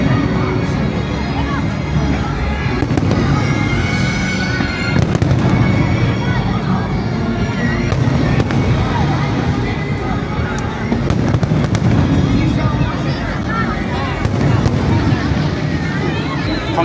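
Fireworks burst over a crowded square at the Qingdao beer festival, a dense continuous volley of pops and booms layered over a steady crowd murmur and some wind buffeting.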